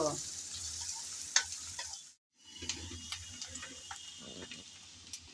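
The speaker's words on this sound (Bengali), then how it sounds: "পেঁয়াজ রসুন শুকনো মরিচ একটু নেড়ে চেড়ে ভালোভাবে বেজে নেব" Chopped onion, garlic and dried chili sizzle in hot oil in a pan, a steady crackling fry broken by sharp clicks and scrapes of a spatula stirring, with a brief pause partway through.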